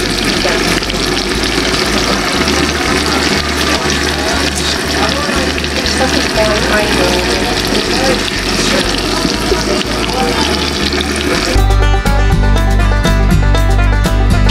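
African catfish (hito) frying crispy in hot oil, a loud dense sizzle and crackle that runs steadily throughout, with a low hum underneath and a sharper burst of spattering near the end.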